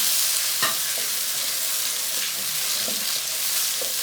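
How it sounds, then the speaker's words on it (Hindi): About 500 grams of chicken frying with tomatoes in a pan for a garlic salan, with a constant close sizzle broken by several distinct scrapes and clatters of stirring, and no talk. "इसे सुनहरा ब्राउन होने तक भून लेंगे"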